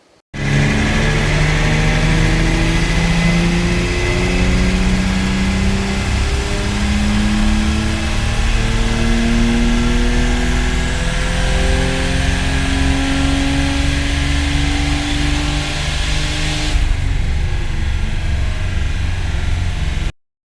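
A car on a dynamometer revs hard through a long full-throttle pull, engine note climbing steadily for most of the run before cutting off abruptly near the end; loud and close, with no talking.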